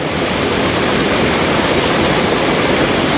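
A seasonal creek on rural California land flows in a steady, full rushing wash of water. It stays constant and loud throughout, with no voices.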